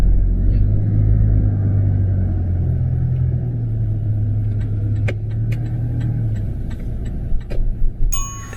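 A car driving on a street while making a U-turn during a mock driving test, a steady low engine rumble with some faint clicks toward the end.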